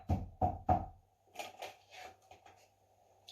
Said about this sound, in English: suddenly there was a banging at the door